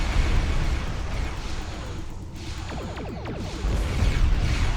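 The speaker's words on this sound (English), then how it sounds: "3 torpedoes in rapid succession" Torpedoes fire one after another in Star Trek Online, a dense roaring wash of space-combat noise with whooshing, crackling bursts and a louder surge toward the end, and no talking.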